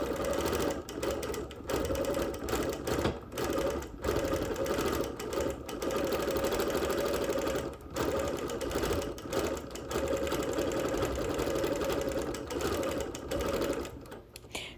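A sewing machine quilts steadily on wool around the edge of an appliqué road, its close, continuous motor hum and rapid needle chatter broken by brief pauses.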